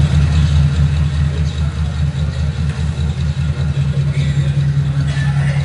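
A diesel jeepney engine idles nearby in the Philippines, a loud, rough, throbbing low rumble with a steady pulsing rhythm that holds throughout.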